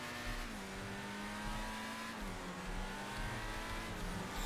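Classic car engine revving in GTA 5 Online, a steady droning roar with a slight rise and fall in pitch, loud and continuous for a few seconds with no talk.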